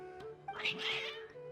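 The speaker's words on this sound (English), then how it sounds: "Strange. Your cats seem pretty worked up." Worked-up cats meowing in Genshin Impact, a short cluster of bright, rising cries over a steady tonal game background, close and moderately loud for about a second.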